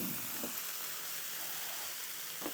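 Peppers and minced beef for taco fries cook over high heat on a stovetop, giving a steady, soft, even sizzle with a couple of faint clinks or stirs and no talking.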